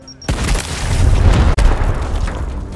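A frag grenade detonates in Gears Tactics with a loud, deep boom that hits after a brief quiet lead-in. A heavy rumbling roar then fills the rest of the clip, with a short cut in the middle.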